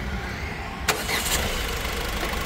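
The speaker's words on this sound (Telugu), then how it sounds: "ఒకసారి ఇంజిన్ స్టార్ట్" A Ford EcoSport Titanium from 2016/17 cranks once and catches, settling into a quiet, steady idle, heard up close with no one talking.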